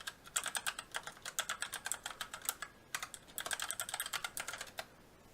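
Fingers typing on a computer keyboard to log in, with rapid, quiet keystrokes in two bursts separated by a short pause.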